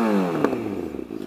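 Motorcycle engine revving hard toward peak RPM, a loud close harmonic whine sweeping in pitch with rattling, crackly clatter as it settles, with no talk over it.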